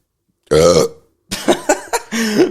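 A loud, close burp after drinking Irn-Bru, one long belch followed by a string of shorter croaking bursts against silence during a podcast.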